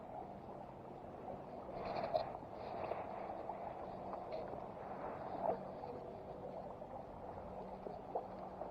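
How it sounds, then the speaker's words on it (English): A distant engine drones steadily beside a river in planting season, heard as a faint, continuous low hum with no voices. "I hear an engine. I don't know if it's a boat."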